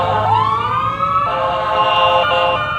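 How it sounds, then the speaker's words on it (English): An ambulance siren passes along a Mexican city street, its loud wailing tones rising and sweeping up and down for about three seconds. "There's an ambulance going right there."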